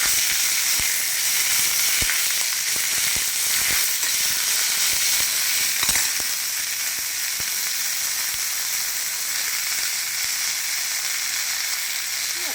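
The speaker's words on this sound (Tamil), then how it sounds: "முருங்கைக்கீரை வெங்காயம் ஜீரகம் எல்லாத்தையும் போட்டு ஒரு வதக்கி வதக்கி" Drumstick leaves, onion and cumin sautéing in a pan give a steady, loud close-up sizzle and frying hiss throughout, with occasional scraping stirs and clicks.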